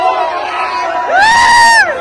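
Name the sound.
crowd of boys cheering at a bullock race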